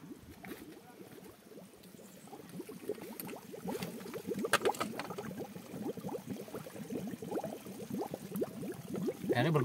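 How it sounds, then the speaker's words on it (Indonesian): Cold crater pool water bubbles and gurgles steadily in a volcanic crater, a dense continuous burbling with faint wind behind it. "Oh, bahkan airnya mendidih."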